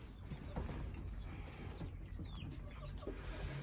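Backyard chickens clucking near the coop, soft intermittent clucks over steady rustling and creaking mechanical noise, fairly faint and without talk.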